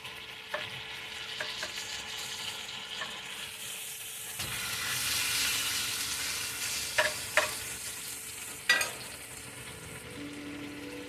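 Ribeye fat, bell peppers and onion sizzle steadily in a cast iron pan on medium heat, with a softer hiss and a few sharp scrapes and clinks of stirring, no voices.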